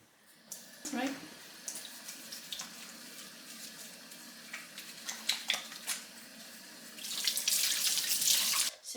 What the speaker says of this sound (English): wash my hands because you need to have clean hands before cooking